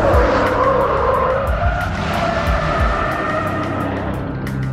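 A car skidding through a turn during a staged chase, tires squealing loudly and continuously over a strained engine, close and unbroken throughout.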